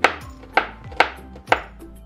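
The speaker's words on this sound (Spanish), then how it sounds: "Vamos a picar la cebolla finamente. Y ahora los ajos también" A kitchen knife chops onion and garlic finely on a cutting board, four crisp, evenly spaced strikes about half a second apart, close and clear with no talking.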